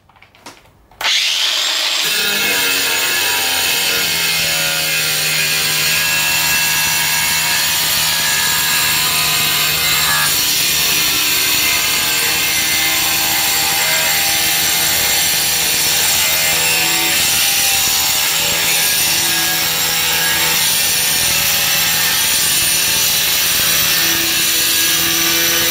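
A Ryobi One+ 18V cordless angle grinder with an old, worn blade cuts through ceramic tile, spinning up loudly after a brief quiet start and then holding a steady, high, whining grind close by for the full length.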